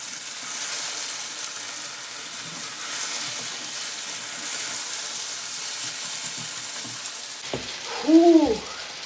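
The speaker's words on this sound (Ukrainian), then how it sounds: "О, картоплю сюди. Фух хай досмажується" Potatoes sizzle while frying in an old pan, a steady hiss running throughout, with a brief louder clatter near the end.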